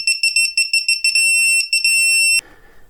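Loud, high-pitched electronic beeping from a torque screwdriver, first in quick pulses, then a sustained tone with brief breaks before stopping abruptly.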